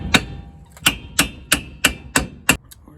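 Hammer taps on the brake drum of a 1963 AMC Rambler barn find with a freed-up wheel bearing: seven sharp, ringing metallic strikes at a steady, unhurried rhythm, close and loud.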